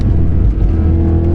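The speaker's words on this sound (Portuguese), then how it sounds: "O melhor ronco da história do M3 está nesse V8." The V8 engine of a 2012 BMW M3 E92 with DCT gives a loud, deep, steady roar with a rumbling low end, heard close and without any talking.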